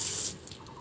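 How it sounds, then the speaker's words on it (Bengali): A water tap for washing hands at an ashram near Kolkata runs with a soft hiss at first, then fades to faint trickling and drips within a second. "রয়েছে এখানে ভক্তদের জন্য হাত ধোয়ার জলের কল।"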